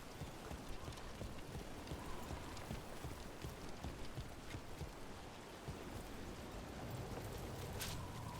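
Steady rain falls in the fantasy video game Dragon Age: The Veilguard, a soft, even patter of drops that stays faint and unbroken throughout, with no other sounds.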